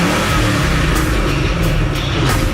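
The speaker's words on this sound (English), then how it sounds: "That big, mean-sounding V8 roar." Ford Mustang GT500 V8 revs with a loud, deep roar, the engine note swelling in several quick throttle blips over a steady heavy rumble, close and unaccompanied by voices.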